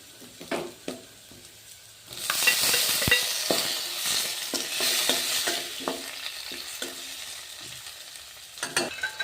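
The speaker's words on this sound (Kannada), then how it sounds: "ಗೋಲ್ಡನ್ ಕಲರ್ ಬರುವವರೆಗೂ ಫ್ರೈ ಆದವಲ್ಲ, ಟೊಮೊಟೊ ಹಾಕ್ತಾ ಇದ್ದೀನಿ." Tomatoes dropped into a pan of onions fried golden for a raw coconut sambar, with a burst of loud sizzling from about two seconds in, plus repeated spoon or spatula scrapes and knocks as the mix is stirred.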